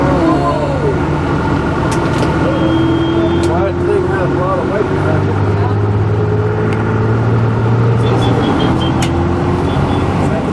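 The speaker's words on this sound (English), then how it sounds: "Truck away, here on your right." A truck passes on a road in South India between Cochin and Mysore, its engine drone and tyre rumble steady and close. Someone talks over the traffic noise.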